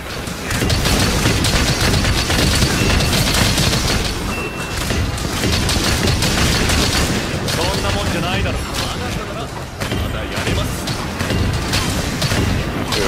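Elemental bowgun shots fire rapidly in Monster Hunter Rise: Sunbreak during an anomaly hunt against a raging Rajang, dense loud bursts overlapping with game music and impacts, someone speaking over them.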